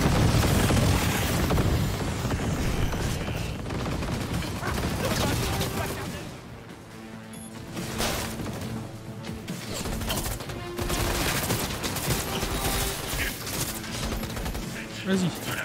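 Rapid gunfire bursts in the Cyberpunk 2077 video game, loud and dense throughout alongside game music, explosions and crashing effects, with a brief lull midway.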